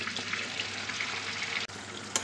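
Taro and potato curry bubbling in a pot as it is stirred, a steady close simmering hiss with a brief dip partway through and a small scrape near the end.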